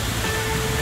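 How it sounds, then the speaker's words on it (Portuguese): Casca Danta waterfall in Serra da Canastra, a constant loud, dense rush of falling water that fills the short moment with steady hiss and roar. "ao pé da cachoeira Casca Danta"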